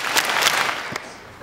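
An audience at a general assembly talk claps together in about three big bursts, a loud broad crackle that fades toward the end.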